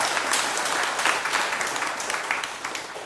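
Crowd applause at a Buddhist dharma talk, a loud, continuous wash of many hands clapping together from start to finish, with no voices over it.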